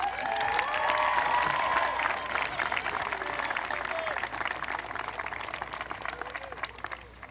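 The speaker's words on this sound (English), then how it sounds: "May we have another round of applause for our student speakers?" Graduation audience for the class of 2014 applauding its student speakers, a broad steady wash of clapping and some cheering that fills the hall for about seven seconds before gradually thinning.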